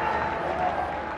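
A stadium crowd cheers and applauds for Indian cricket captain Sourav Ganguly at a 2001 Coca-Cola Cup match in Sri Lanka, a dense, steady wash of clapping and voices filling the whole moment.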